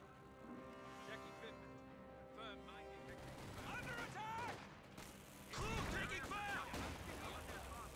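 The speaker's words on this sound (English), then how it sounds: "Concentrated fire barrage wipes out one of the AT guns and destroys it" Artillery fire barrage in the Company of Heroes 2 strategy game, heavy booming blasts and rumbling impacts layered with battle noise, with a commentator talking over the fighting.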